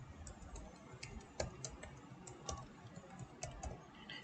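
Computer keyboard keys clatter in uneven bursts as an email address is entered, crisp close clicks alone over a faint background hiss.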